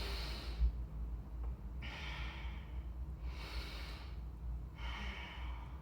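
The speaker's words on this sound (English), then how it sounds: "Stay for a few extra breaths." Slow, audible breathing of someone holding a vinyasa yoga pose, four soft airy breath sounds in an even rhythm, close and quiet, with no talking.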